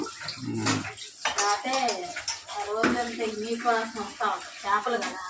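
Running water splashes during washing in a home kitchen while a fish curry is being cooked, with clinking dishes and a voice talking over it throughout.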